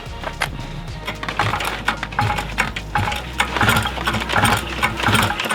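Paramotor engine with a known starting problem cranking and sputtering close by, a steady rough mechanical chatter with irregular pulses and bursts that never settle into a clean running note.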